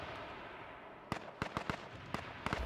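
Enemy gunfire in a video game, a quick series of sharp cracking shots, some in tight bursts, over a dense background rumble.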